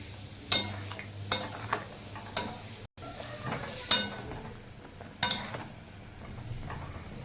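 Paneer tipped into a pan of whisked curd gravy and stirred, giving several sharp scraping and clattering strokes of a spoon against the pan over a soft, steady sizzle, with no talking.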